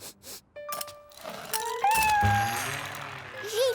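A cartoon cat meows several times, short tonal cries rising and bending in pitch, mixed with other cartoon sound effects and a voice speaking nearby.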